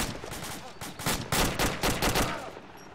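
Bursts of gunfire in quick succession, loud and close, several sharp cracks clustered over a couple of seconds with a shout of alarm mixed in.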